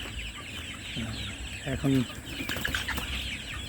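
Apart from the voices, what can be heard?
chickens clucking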